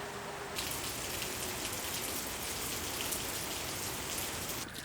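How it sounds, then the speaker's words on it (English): Heavy rain pours at night in a steady, dense, loud hiss of drops hitting the ground and surfaces. It runs unbroken throughout with no voices. "Pouring rain, dodging puddles and holes in complete darkness."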